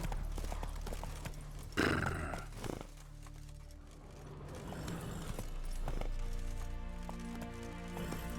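Roach the horse from The Witcher 3 galloping in the game, a steady clip-clop of hooves under a low ambient bed, with a brief louder burst near the start.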